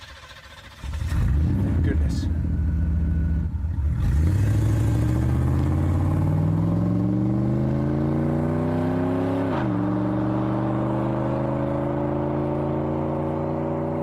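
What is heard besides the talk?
car driving off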